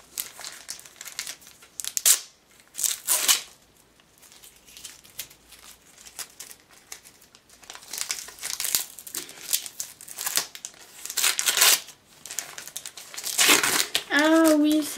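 Repeated loud ripping and crinkling as tape is torn off a wrapped package in short bursts, with brief talk in French in between.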